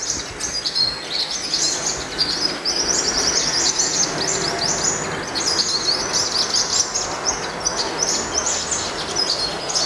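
Yellow-bellied sunbird, a five-colored sunbird, chirping continuously in rapid, high, thin bursts that stay steady and close throughout, with no talk.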